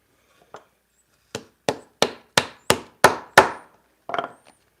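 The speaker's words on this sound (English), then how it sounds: "Now we're gonna hammer." A sequence of about eight sharp hammer strikes setting a rivet into leather, sparse at first then in a quick steady rhythm, close and loud with a ringing knock.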